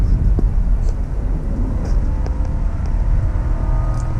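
A Toyota Land Cruiser truck accelerates hard from 55 mph, giving a loud, steady engine drone and road rumble heard from inside the cabin, with no one speaking.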